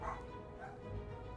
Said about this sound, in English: I apologize if you hear my dog in the background.